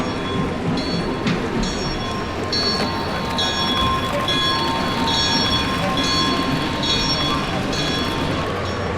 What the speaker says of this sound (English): I like that train, let's get that.